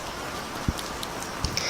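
Steady heavy rain hisses evenly throughout, with a few soft thuds and drips standing out over the constant wash, no voices present.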